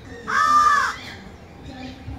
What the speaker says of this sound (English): Very common crow, it's called a pied crow in Africa.